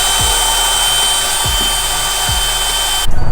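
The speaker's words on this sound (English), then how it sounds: "we're gonna have to drill some holes so we can drill it in" A power drill whines steadily while boring holes to mount new seats in a K24-swapped Honda Civic, a continuous high-pitched hum with a few low thumps, cutting off abruptly near the end.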